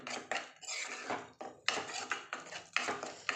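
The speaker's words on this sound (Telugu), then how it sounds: "ఇప్పుడు కొంచెం పసుపు చిటికెడు పసుపు వేసుకోవాలి ఇప్పుడు బాగా కలుపుకోవాలి" A pan of fish curry with a pinch of turmeric is stirred briskly, giving close scraping strokes of a spoon against the metal in quick repeated bursts.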